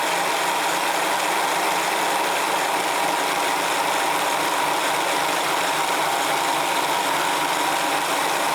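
Searl effect generator with brand new rollers spinning at about 385 RPM, a loud constant whirring mechanical drone with a rattly texture, steady throughout and alone.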